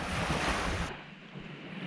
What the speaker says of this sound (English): Lap of the water lapping at my feet.